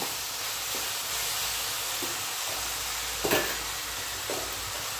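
Vegetables fry in a hot pan with a steady, broad sizzle and hiss, broken by a few short louder crackles and stirring scrapes, with no talking.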